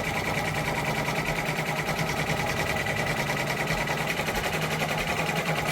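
An OESD multi-needle embroidery machine stitching, a steady rapid mechanical whir and chatter that stays even and unbroken, close and fairly loud.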